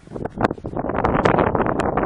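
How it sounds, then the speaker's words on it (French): Strong wind buffets the microphone outdoors during a toy metal-detecting outing, a continuous roaring rush with gusty surges and rustling, no speech. "il y a énormément de vent. Il y a beaucoup de vent"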